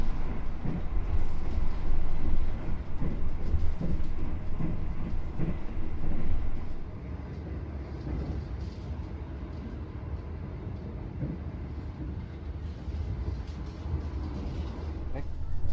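The Argo Bromo express train runs fast on the rails between Jakarta and Surabaya, a loud continuous rumble of wheels and car noise from on board that drops slightly in level partway through, with no talk.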